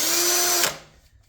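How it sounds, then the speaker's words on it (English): A power drill spins a Sharpie marker against metal to mark a hole's center, one steady high whirring run for about two-thirds of a second, then winding down and fading out. "put it in my drill, line it up in the center of the hole"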